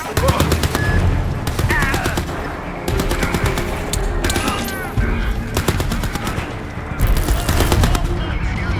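Turret gunfire in the video game Crysis 3 Remastered hammers out in loud, sustained automatic bursts separated by brief gaps, thick with surrounding battle noise.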